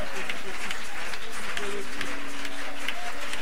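A church congregation applauds and cheers loudly, a dense continuous wash of clapping and crowd noise with voices calling out over it.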